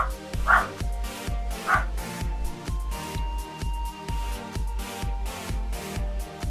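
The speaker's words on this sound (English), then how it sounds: "Yeah, dogs are barking, that's annoying." Dogs barking in the background, repeated yips and bow-wows sounding over a steady rhythmic music track, with no talk over them.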